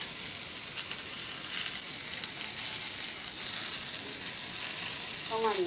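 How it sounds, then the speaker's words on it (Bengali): Okra and egg with turmeric sizzle steadily in a frying pan, giving a continuous close crackle of hot oil with faint stirring and a brief voice near the end. "সামান্য একটু ভেজে নিলাম।"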